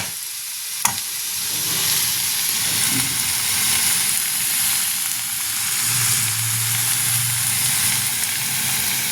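Pieces of chicken for chicken paratha sizzle and fry steadily in a pan, a continuous close hiss with a single sharp clink near the start and no voices.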